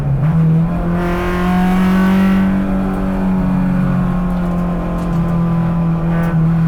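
A Honda S2000 time attack car engine revs hard and loud, with strong harmonic engine tones rising and holding steady throughout, close up and with no talking.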